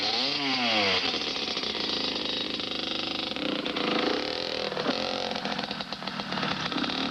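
A race motorcycle engine, apparently at the 1985 Carlsbad Grand Prix, runs loud and close, revving with rising and falling pitch, then holding a dense, steady roar throughout.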